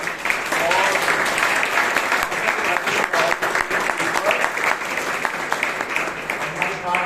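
Audience members at a Bangalore Toastmasters meeting give a round of applause after a speech, a steady, moderately loud rattle of many hands with a faint murmur of voices mixed underneath.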